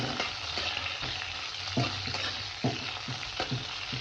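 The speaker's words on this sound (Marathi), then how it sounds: "थोडे अगोदर वांगे तेलामध्ये थोडे परतले ना लवकर शिजतं वांगा." Eggplant pieces fry in oil for a Marathi vegetable dish, giving a continuous sizzle with rhythmic scraping as a spoon stirs them every half second or so, close and with no voices.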